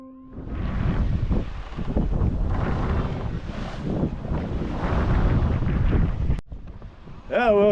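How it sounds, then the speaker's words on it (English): Steady wind roars and buffets across the microphone aboard a sailboat with a reef in each sail, running on a tiller pilot along the Galician Rias Altas coast, a continuous loud rush with brief gusts and a short dip near the end. "it's turned into a lively breeze"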